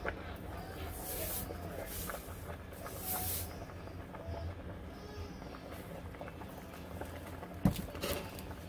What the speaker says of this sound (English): Cooking up some green beans for our side.